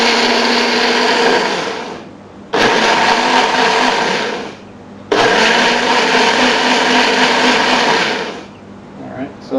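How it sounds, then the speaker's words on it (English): A small personal blender whirs in three loud bursts blending kefir, each run lasting about two seconds or more, with short gaps of near silence between them. "So I've got this handy dandy little personal blender here."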